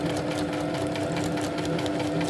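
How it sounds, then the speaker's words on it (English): A sewing machine runs steadily, stitching a strip magnet into campervan blind fabric, its motor humming with an even, rapid needle rhythm throughout, close and alone without talk. "And then I'm going to go ahead and stitch it."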